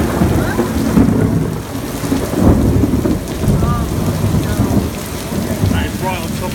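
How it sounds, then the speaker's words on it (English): Heavy rain pours steadily at an outdoor theme park while thunder rumbles low and rolls through repeatedly, close overhead, with no talk over it. "Wait for a bit more thunder."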